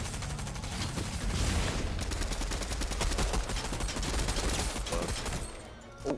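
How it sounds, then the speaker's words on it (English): Video game gunfire rattles in rapid, dense automatic bursts for several seconds, loud and close, then tapers off into a short quieter tail. "Why is he shooting me?"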